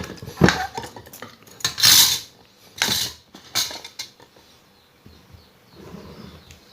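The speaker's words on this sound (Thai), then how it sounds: "เรามาหั่นฮอทดอกกันก่อน" A knife slices hot dog sausages on a cutting board, giving several crisp, irregular cutting strokes that knock against the board, close by and with no talk.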